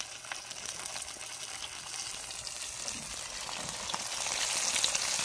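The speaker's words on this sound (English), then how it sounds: "And we'll fry those up good and brown on each side." Bluegill fillets sizzle in hot oil in a cast iron skillet on a small Coleman camp stove at a picnic table outdoors, giving a steady crackling hiss that grows slightly louder toward the end, with no talking.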